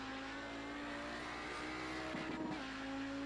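An Audi 90 GTO race car slides through the last corner at Suzuka, its engine holding a steady, loud drone, with a brief rough scrabble of tyres near the end.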